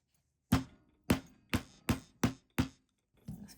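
Hammer blows flatten silver wire for jewelry, six sharp metallic taps in an even rhythm followed by a softer seventh strike, close and clear with no talk.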